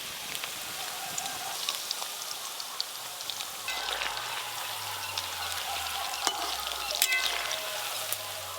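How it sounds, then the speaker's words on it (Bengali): Chicken pakora pieces coated in onion paste fry in hot oil, giving a steady, dense sizzle and crackle with a low background hum throughout. "চিকেনের পিসগুলো একটু সময় নিয়ে উল্টে পাল্টে ভেজে নিলেই হয়ে যাবে।"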